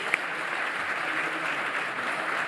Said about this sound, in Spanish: Un aplauso para Manu da Silveira.